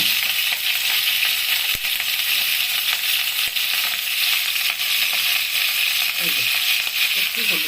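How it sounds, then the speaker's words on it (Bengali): Pieces of pointed gourd fry with salt and turmeric in a pan, a steady, bright sizzle running throughout, with a couple of sharp clicks and faint stirring scrapes. "পটলটা ভাজার সময় একটু নুন দেবো"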